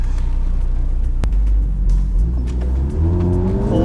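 A Mercedes-AMG car launching from a standstill on a race track at the Chang International Circuit, the engine rumbling loud and close before revving hard and climbing in pitch as it accelerates away.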